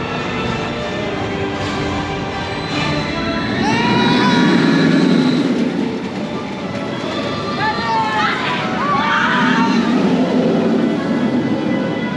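Penguin Trek launched roller coaster train at SeaWorld Orlando, heard from nearby as whirring tones rise and swell twice over a steady outdoor din, with park music and chatter underneath.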